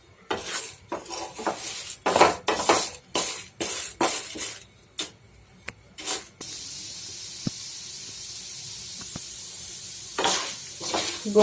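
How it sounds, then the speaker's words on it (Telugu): Urad dal frying in hot oil in a pan, with repeated clinks and scrapes of a spoon against the vessel at first, then a steady close sizzle carrying on with occasional stirring knocks. "గోల్డెన్ కలర్ వచ్చేంత వరకు ఫ్రై చేసుకోవాలి"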